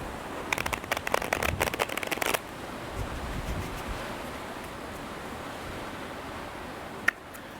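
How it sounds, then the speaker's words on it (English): Tarot cards riffle and flutter quickly for a couple of seconds, followed by quiet rustling and a single soft tap. "I'll shuffle this deck a couple more times."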